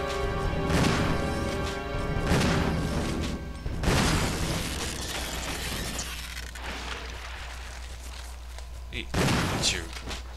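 Gunfire against an enemy in Resident Evil on GameCube, hard mode, with several loud booming shots and crashing impacts over game music, and someone talking through part of it.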